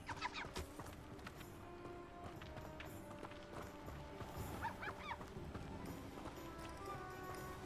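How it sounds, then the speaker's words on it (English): Chicken in the video game Hogwarts Legacy clucks in short scattered bursts amid a busy farmyard ambience with hoofbeat-like clopping, all fairly faint. "Hello, chicken."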